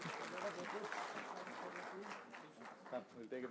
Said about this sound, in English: A round of applause to the young lady, 20 years old.